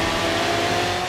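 A Lamborghini supercar engine in the Forza Horizon 3 racing game drones with a steady, loud mechanical hum that holds evenly throughout, without clear rises in revs.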